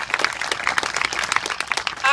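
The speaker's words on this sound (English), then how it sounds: "I hope you'll give him a big round of applause" Audience applauding Owen O'Riordan, honoured as a longtime champion of a storm water wetlands project; dense, steady clapping from a crowd with many overlapping hand claps throughout, fairly loud and continuous with no break.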